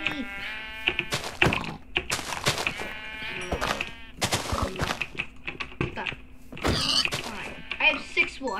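Several sheep bleat in the Minecraft Industrial Craft modded game, wavering cries repeating throughout, mixed with sharp clicks and thunks of gameplay while a person talks over them.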